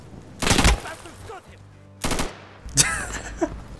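AK rifle bursts in the Insurgency video game: two loud automatic volleys followed by a third burst with shell and debris clatter, close and punchy.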